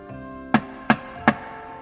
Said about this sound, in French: Il leva la main au niveau de la porte et il frappa.